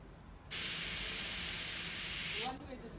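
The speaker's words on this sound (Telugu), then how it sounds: "ఒక్క విజిల్ వచ్చేసిన తర్వాత కట్టేసుకొని మనము ఇది వచ్చేంత వరకు ఆవిరిపోయేంత వరకు వెయిట్ చేద్దాం" A pressure cooker lets off a steady, loud jet of hissing steam for about two seconds while bottle gourd kurma cooks, starting abruptly and cutting off sharply, with faint background sound around it.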